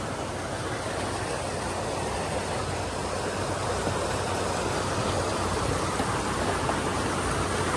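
Steady broadband rushing of flowing water, constant and fairly loud throughout with no pauses and no voices.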